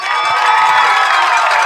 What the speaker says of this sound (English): As the crowd recognizes Zach Smiley for owning that record